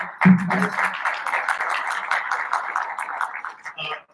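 A luncheon audience claps together in a dense, even round of applause that swells at once and tapers off near the end, with no talk over it.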